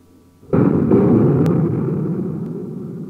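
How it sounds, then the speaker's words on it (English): A Redeye shoulder-launched infrared-seeking Army air defense missile fires with a sudden loud blast that swells into a sustained roaring rush, dominating the short moment alone. "It is a shoulder-launched infrared seeking missile, latest of the Army's hard-hitting air defense weapons."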